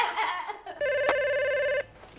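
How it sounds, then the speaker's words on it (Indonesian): A telephone rings with a single steady electronic tone lasting about a second, loud and close, after a brief murmur of background sound. "Telepon."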